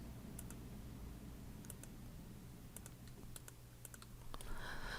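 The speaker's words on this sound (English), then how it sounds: "Hold down my shift key and click." Mouse clicks on a computer while the shift key is held down, a few faint, sharp clicks spread over steady low room hum, with a brief rustle near the end.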